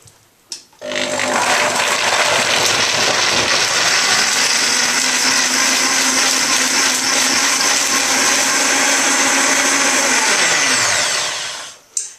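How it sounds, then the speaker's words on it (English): A high-speed blender whirs loudly and steadily for about ten seconds, blending a raw hot chocolate chai with filtered water, starting abruptly and winding down at the end. "blend until smooth"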